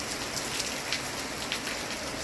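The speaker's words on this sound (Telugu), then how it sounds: "నెల్లూరు జిల్లా వ్యాప్తంగా భయంకరమైన వర్షాలు పడుతున్నాయి" Heavy rain pours down steadily in Nellore during a cyclone, a dense, loud hiss with no breaks and no voices.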